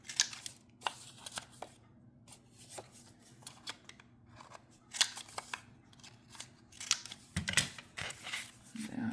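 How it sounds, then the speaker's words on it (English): A ticket punch snips into paper corners in a run of small, sharp clicks and crunches. They come close and fairly faint, spaced unevenly over several seconds. "you put a little ticket punch on these corners of this one"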